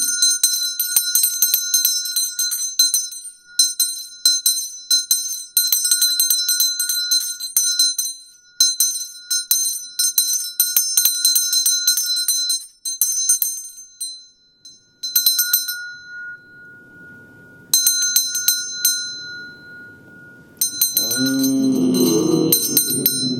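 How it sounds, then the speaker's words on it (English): A bell rung again and again at a Native American gathering, bright sustained chimes repeating in bursts and ringing out loud and alone, with a short pause near the end before a voice begins talking over it. "I want to ring the bell"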